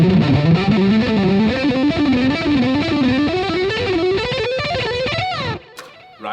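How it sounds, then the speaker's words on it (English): Heavily distorted electric guitar played through the neck pickup rips through a fast picked run, dense rapid notes climbing and falling for several seconds before cutting off abruptly into near silence. "he tends to use the neck pickup."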